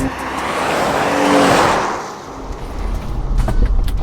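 A loud engine roars at full throttle in a drag race, then a 2020 Jeep Gladiator pickup revs and accelerates hard nearby, with tire noise and rising engine pitch.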